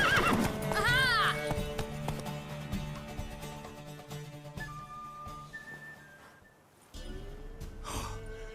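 A horse whinnies loudly near the start in The Witcher 3: Wild Hunt, followed by steady clip-clopping hooves and a busy mix of game sounds and music continuing throughout.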